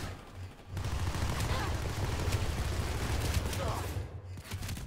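Rapid gunfire bursts from a PS2 shooter game with a pump shotgun loaded with slug ammo, a dense crackling volley running almost nonstop over several seconds under in-game noise.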